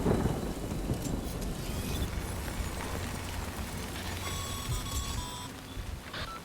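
Rain falls steadily with low rumbling thunder in the video game Death Stranding, a dense wash of downpour and distant rolling booms, with a few faint tonal chirps near the end and no talking.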